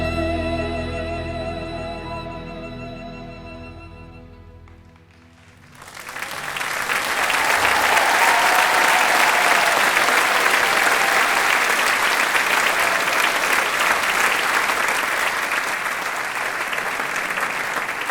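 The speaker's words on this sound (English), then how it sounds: "let's give them another round of applause, could we?" A sustained sung or instrumental note fades out, then a commencement crowd bursts into loud, dense applause that holds steady for over ten seconds.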